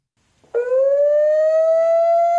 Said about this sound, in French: Je vais vous faire écouter les sirènes d'alarme.